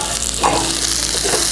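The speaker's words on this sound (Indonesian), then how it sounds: "Kita tumis lagi sampai cabai keritingnya harum." Curly red chilies are stir-fried in spice paste in a pan, giving a steady close hissing sizzle with a couple of soft stirring scrapes and no talk.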